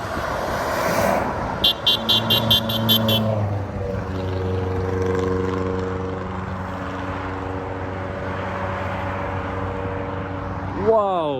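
A Mitsubishi Evo 2 drives along a motorway with a steady engine drone and road noise that swells and then fades. Traffic sounds, a short horn-like toot and people's voices are heard around it.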